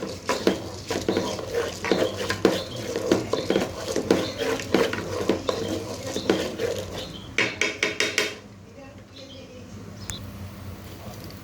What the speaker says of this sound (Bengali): চাল আর ডাল থেকে খুব ভালো ভাজা হয়ে গিয়েছে, শনশন একটা সাউন্ড হচ্ছে